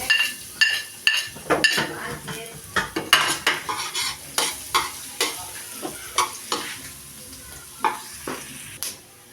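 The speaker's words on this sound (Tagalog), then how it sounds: "Para matosta yung bawang natin." Garlic and ginger frying and being stirred in a pan, a steady sizzle broken by repeated sharp scrapes and clinks of a utensil against the metal, close up with no talk.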